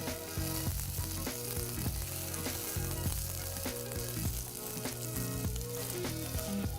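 Roughly chopped onion frying and being stirred in a kadhai, a dense, steady sizzle with scraping clicks from the spoon through the whole stretch, close and even.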